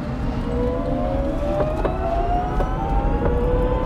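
A Microlino electric quadricycle drives along with a steady road rumble and a rising whine from its electric motor, heard up close and continuous, with a few brief clicks over the drive.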